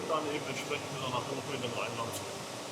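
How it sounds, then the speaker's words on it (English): Vacuum pumps serving the production systems of a Bosch microchip factory cleanroom building give off a constant, droning mechanical hum in the background while someone speaks loudly over it. "In the background we can hear the vacuum pumps from level 1, which create the vacuum for the production systems"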